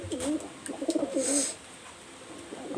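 Two male pigeons of a flying breed give low, rolling coos in short bursts close by, with a brief faint chirp partway through and a quiet background.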